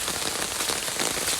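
Steady rain falls outdoors on a rural farm field, a dense, even hiss of drops striking surfaces close by that carries on without a break and with no voices.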